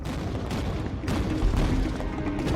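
A World War II battle sound effect of tank guns and SS artillery striking a village: dense, continuous rumbling booms and rattling gunfire, loud and unbroken, with no talk.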